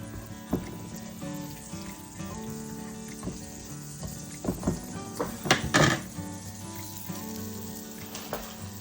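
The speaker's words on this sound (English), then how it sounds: "You add butter. And you let that start to melt." Butter melts in a pan over medium heat for a Parmesan mushroom omelette, a low steady sizzle broken by sharp clinks and clatters of pan and utensils.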